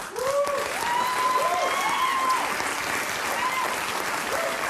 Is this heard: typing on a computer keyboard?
no